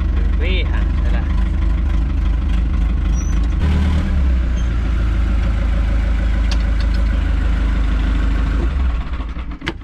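An old engine runs at a steady, rough idle, loud and close throughout, with a brief change in tone partway through and no talk over it.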